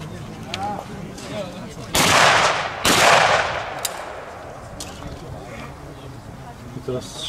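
Two loud, close shotgun blasts about a second apart at a hunting association shooting competition, each with a long decaying roar, while people talk faintly in the background.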